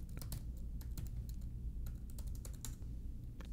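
Keys clack on a computer keyboard as a password is typed, a quick irregular run of close, crisp taps over a low steady hum, with no voices.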